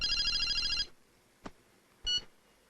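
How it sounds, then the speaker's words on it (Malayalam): A telephone rings with a bright electronic trill, stops, and starts again briefly after a pause, a small click between them. "ജയ, ഫോൺ."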